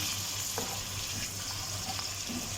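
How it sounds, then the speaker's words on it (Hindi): Chicken pieces frying in a pan for karela chicken, a steady broad hiss of sizzling with a low hum underneath, continuous and fairly quiet with a few faint clinks. "हमने लिया है 1 पाव चिकन, ये इस वक्त इसमें ऐड करेंगे और इसे फ्राई करेंगे"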